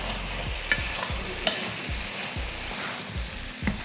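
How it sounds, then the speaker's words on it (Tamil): Fried chicken pieces are stirred into tomato masala in a pan, with a steady sizzle under regular, rhythmic scraping strokes and an occasional light clink, close and unaccompanied by talk. "அதையும் அதில் சேர்த்துடலாம். சேர்த்துட்டு கலந்து விடுவோம்."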